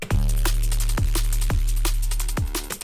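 A heavy, growling neurofunk drum and bass synth bass with a sweeping, hollow notch-filtered tone, punctuated by sharp drum hits in a dark electronic groove.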